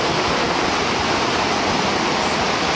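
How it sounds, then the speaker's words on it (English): Powerful, continuous roar of water pouring through Summersville Dam on the Gauley River, a thick, unbroken rushing wash heard up close with no speech. "Well, here's Somersville Dam."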